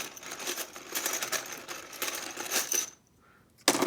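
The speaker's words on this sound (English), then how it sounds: "I definitely want to count the dice." Plastic dice from an Axis & Allies Europe board game clatter and rattle continuously as they are dropped and counted, followed by a short pause and another burst of clicking.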